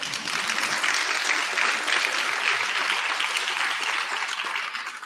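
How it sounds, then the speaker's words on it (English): Loud, sustained audience applause fills a county address event, dense clapping from a large crowd continuing steadily for about five seconds before easing slightly at the end. "That should be applause."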